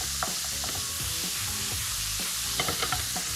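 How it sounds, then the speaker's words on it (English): Minced beef fries in a hot pan with a steady loud sizzle while a spoon stirs and scrapes through it in irregular knocks, close up with no talking. "And frying off the mince for colour"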